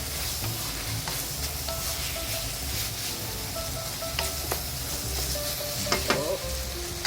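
Eggplant sautés with doubanjiang sauce in a hot pan, a steady close sizzle of frying running throughout, broken by the scrape and clack of a utensil stirring the food, with no voices.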